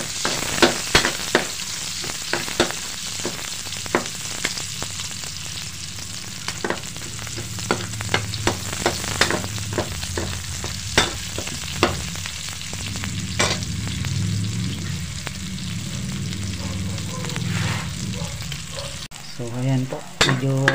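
Onion and garlic sauté in a pan with a loud, continuous sizzle and crackle, dense with rapid popping and stirring scrapes, easing into a softer frying hiss toward the end.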